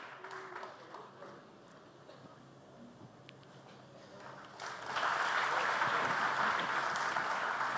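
An audience at a stage event breaks into loud, sustained applause about halfway through, following quieter crowd murmur and scattered sounds before it.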